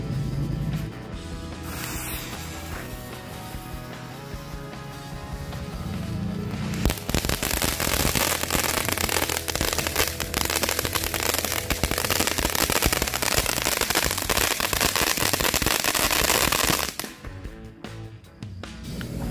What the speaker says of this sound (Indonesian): Lanjut kita sumet mercon air mancur Cassandra Magical.